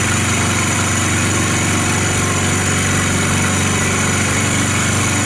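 A steady, loud machining drone from a Chinese 16mm (5/8") two-flute indexable end mill taking a test cut, with a constant tone and slight vibration throughout and no speech.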